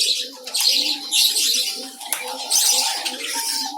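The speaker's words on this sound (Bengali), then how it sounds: "তো আমরা হচ্ছে এখন জাবা পাখির কলোনির ভিতরের দেখবো।" Java sparrows in a breeding colony at a bird farm give a steady, busy mix of soft chirps and cooing calls, close and continuous, with occasional wing flutters.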